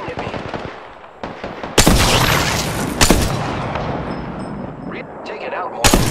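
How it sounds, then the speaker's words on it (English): Enemy gunfire in Apex Legends, loud sharp shots and bursts of automatic fire cracking over a continuous battle din, with a voice speaking at times. "The enemies are shooting at me."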